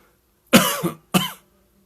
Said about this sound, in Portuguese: A tosse sempre presente, né, nas lives.